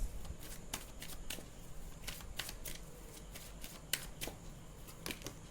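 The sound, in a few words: shuffling tarot cards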